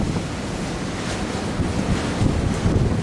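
Strong wind buffets the open deck of the Disney Cruise Line ship Fantasy, a loud steady roar of gusts battering the microphone, with no voices.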